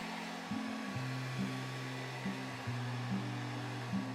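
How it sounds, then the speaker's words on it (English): A household hairdryer blowing steadily on miniature dollhouse shingles to soften their glue, a close continuous whooshing roar with a low motor hum that wavers in pitch as the dryer moves. "Using the hairdryer takes a little bit longer than the heat gun"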